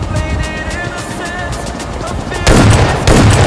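An S12K shotgun and an M16 rifle fire in PUBG on the Erangel map, sharp repeated shots that swell into a louder burst near the end, mixed with game noise and talk.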